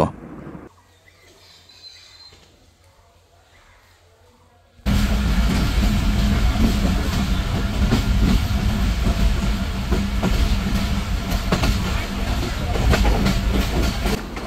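Titumir Express passenger train running toward Hili railway station on the Bangladesh–India border, heard first faintly from inside the coach, then a loud, steady rumble and clatter of wheels on rails for the rest.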